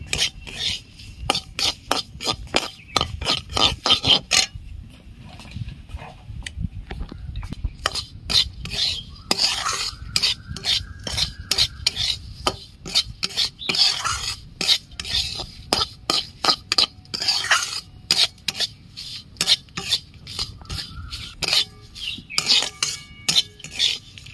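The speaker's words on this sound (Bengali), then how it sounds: "সুজিটা একটু লাল করে ভেজে নেব।" A utensil stirs and scrapes semolina frying in ghee in a pan, making rapid repeated scratchy strokes in an uneven rhythm, close up and without talking.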